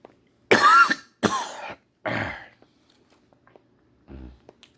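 Three loud, harsh coughs in quick succession close to the mic, followed by quiet and a faint throat sound near the end.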